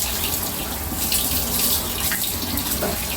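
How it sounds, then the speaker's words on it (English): A spoon is rinsed under a steadily running kitchen tap, a loud continuous splash of water close by with no talking. "I'm rinsing off my spoon because I'm really weird about cross-contamination."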